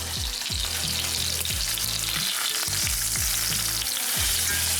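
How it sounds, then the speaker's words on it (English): Steaks searing in a hot, oiled pan, a loud continuous sizzle and crackle of frying fat with repeated low thuds and scrapes as the meat is moved, steady throughout with no talking. "Coat the pan in oil, and when you see it start to ripple and smoke, that's when it's time to drop the steaks in."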